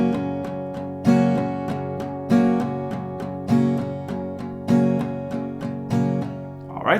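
A steady acoustic guitar strumming pattern built on four downstrokes per round, repeated evenly for several bars, close and alone with clear rhythmic accents and ringing chords.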